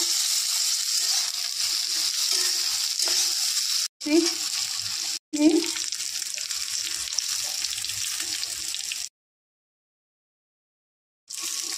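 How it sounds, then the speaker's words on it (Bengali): Small cardamom pods and spices sizzle in olive oil in a pan, a steady close hiss with occasional stirring scrapes, broken by brief cuts and a silent gap. "ছোট এলাচ ভেজে নেব ভালো করে"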